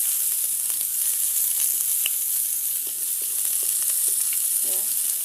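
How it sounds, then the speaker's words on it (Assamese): Meat fries in its own rendered fat in a pan, giving a steady, close hiss of sizzling oil with small pops and faint stirring clicks throughout. "সেইকাৰণে যিমান পাৰোঁ ভাজি ল'ম মই।"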